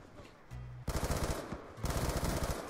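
Rapid automatic bursts from a Type 25 rifle in Call of Duty Black Ops 2, two close, loud strings of rattling shots separated by a short pause, with no talk.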